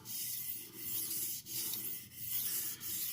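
A knife blade in CTS XHP steel, a Cold Steel Broken Skull, is stroked across a soaked medium India whetstone, giving steady smooth rhythmic scraping passes with brief pauses between strokes, close up and alone.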